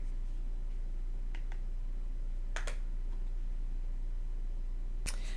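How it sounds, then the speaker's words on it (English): A computer mouse clicks a few times in quick, sharp bursts against a steady low hum in a quiet room, the clicks spaced irregularly across the stretch. "I didn't want you guys to hear me doing all that clicking, trying to get my internet connection back."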